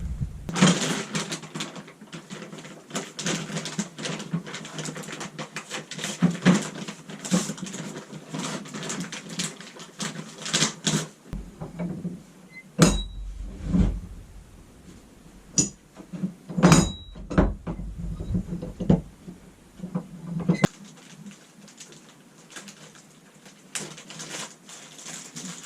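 A door bolt is flicked shut with a couple of sharp, close metallic clacks and thunks amid other handling knocks, in an otherwise quiet indoor room.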